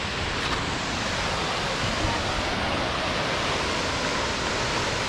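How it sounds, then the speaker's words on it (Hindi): Ramboda Falls, a waterfall in Ramboda Pass, Sri Lanka, gives a constant, loud, broadband roar of falling water that stays even from start to finish. "ब्यूटीफुल वाटरफॉल है, ब्यूटीफुल वाटरफॉल।"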